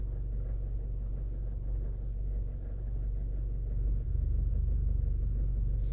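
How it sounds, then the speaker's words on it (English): An unhealthy car engine idles at a red light with a deep, uneven rumble and throbbing low pulses, steady throughout and roughening slightly near the end. "My car does not sound healthy."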